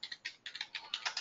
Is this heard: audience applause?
no